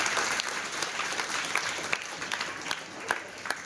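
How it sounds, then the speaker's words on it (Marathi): Audience applause from a group at a talk on conquering board exam fear, steady clapping throughout with scattered louder claps standing out, moderately close and without talk over it. "सो सगळ्यांनी टाळ्या वाजवा दीदीसाठी."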